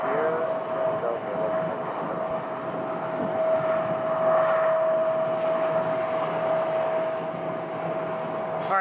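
A Delta airliner taxies at Phoenix Sky Harbor Airport, giving off a steady, loud jet engine whine with a constant tone over broad rumbling for the whole stretch.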